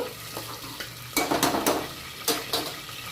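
Mint leaves and green chillies frying in a pan for chicken pulao, a soft steady sizzle broken by several bursts of stirring and scraping against the pan, close and fairly loud, with no talk.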